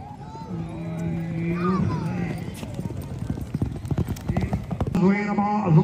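Horses in a neza bazi race, rhythmic hoofbeats and clip-clop growing busier toward the end, a horse whinnying, with someone talking loudly over the sounds.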